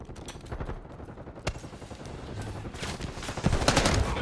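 Dense gunfire in Call of Duty Black Ops 6, with rapid overlapping bursts and automatic fire forming a steady, loud wall of shots that swells toward the end.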